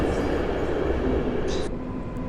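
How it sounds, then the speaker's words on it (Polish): A Polregio passenger train pulls into Warszawa Centralna station with a loud, steady rolling rumble and rail noise that briefly sharpens with a hiss before settling. "Wjeżdża pociąg Polregio"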